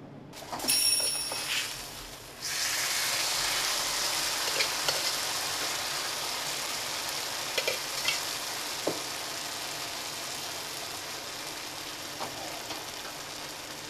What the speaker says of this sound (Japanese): 麻婆豆腐が鉄板に流し込まれることで響き渡る美味しい音。